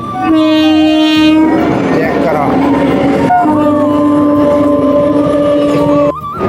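A loud, sustained train horn blares over heavy rumbling rail noise, with a brief pause before the horn returns; a voice speaks briefly.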